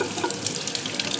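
Water from a tap splashes steadily over a Feit Electric rechargeable flashlight rated IP65 as it is rinsed clean of watermelon juice in a sink, a close, continuous hiss and patter.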